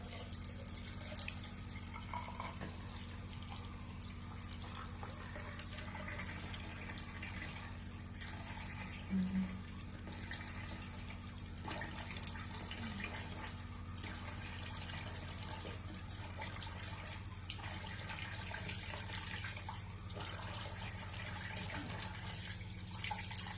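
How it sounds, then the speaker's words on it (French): Tap water running into a sink while a face is rinsed, a faint steady trickle and splash that continues throughout under a low background hum, with no talking. "Je lave mon visage. Donc je vais rincer."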